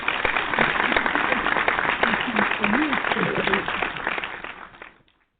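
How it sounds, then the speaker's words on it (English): Radio show hosts in a barber shop talk studio clap together, a close, steady patter of hands under their voices that fades out near the end. "Let's applaud us."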